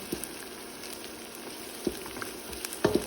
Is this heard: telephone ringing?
no